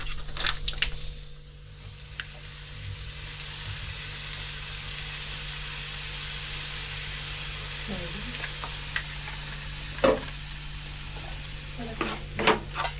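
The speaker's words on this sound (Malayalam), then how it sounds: "ഇളക്കി ചേർത്ത് കൊടുക്കുക." Food fried with soy sauce is stirred in a pan, a soft continuous sizzle with a faint hum underneath and a few clinks and scrapes of a utensil toward the end.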